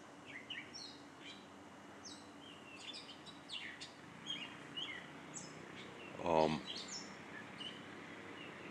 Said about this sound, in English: Can you hear this bird?